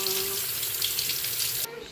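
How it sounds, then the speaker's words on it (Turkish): Tap water runs over an object being rinsed at a sink, a soft steady splashing hiss that cuts off abruptly near the end, fairly faint and close. "Hatta şunu bir sudan geçirelim."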